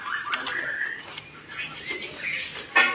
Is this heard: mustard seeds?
no